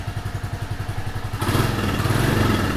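A Royal Enfield Classic 350 motorcycle engine fires up: a steady low thumping idle pulse, then a sudden louder, fuller roar as it catches and runs, close by with no talking.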